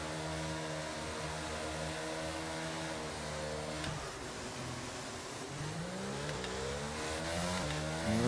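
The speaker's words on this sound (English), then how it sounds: "Get the revs sorted out." A Formula 1 car in the F1 22 video game holds high revs on the grid at a wet Miami race start, then the engine note drops and climbs again in a loud, sustained harmonic whine as it launches.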